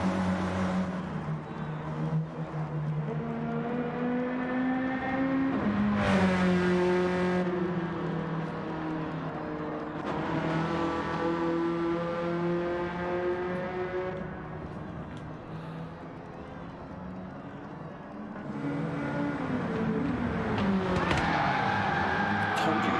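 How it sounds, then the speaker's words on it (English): A race car engine in a sim racing video game at Catalunya, revving loudly and sliding as the car is pushed into a drift through turn one. The engine note rises and falls continuously beneath excited commentary. "Rafa's gone bananas into turn one. He's trying to drift that."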